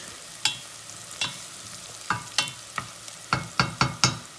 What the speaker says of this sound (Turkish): Sebzelerimle birlikte soğanlarımı kavurmaya başlıyorum.